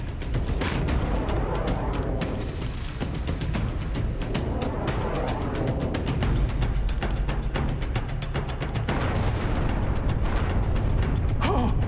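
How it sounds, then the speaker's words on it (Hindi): Explosion in a mythological drama set in Lanka, heard as a sustained, dense roar of booming, crackling blasts that fills the whole stretch at steady loudness, with no talking over it. "ये क्या, ये विस्फोट कैसा?"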